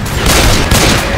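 Gunfire in the Left 4 Dead 2 video game, a very short, loud, dense barrage of overlapping shots and booms filling the moment at close range.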